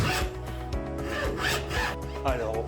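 Hand saw cutting through pallet wood in steady back-and-forth strokes, with a rasping wooden scrape close and loud, no talk over it.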